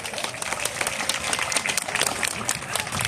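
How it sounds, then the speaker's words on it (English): An outdoor audience at the Como Zoo Sparky sea lion show in Minneapolis applauds as the pinnipeds come to the stage, a dense wash of clapping and crowd noise, steady and fairly loud. "let's give them a round of applause and get them pumped up"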